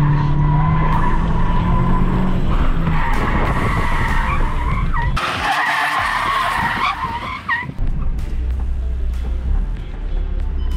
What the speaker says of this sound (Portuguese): Puxa o freio de mão, dá uma patinada no pneu da frente, que aí marca mais ainda.